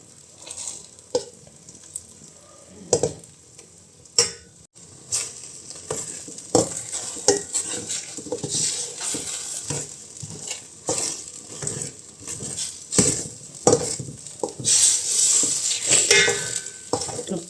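Egg and green pepper stir-fried in a pan, the sizzling broken by repeated scraping and clattering of a spatula against the metal in an uneven rhythm, close and fairly loud.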